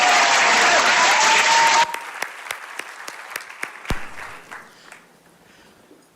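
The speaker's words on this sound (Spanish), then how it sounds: "Un aplauso para mi amigo Juanpi en primera fila." An audience breaks into dense, loud applause that cuts off abruptly into scattered individual claps, which thin out and fade, followed by a brief word of thanks.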